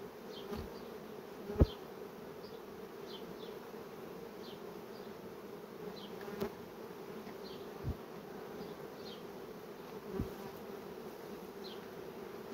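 Soft, continuous droning hum of honey bees at a hive, with occasional faint knocks and light thuds in a quiet outdoor setting.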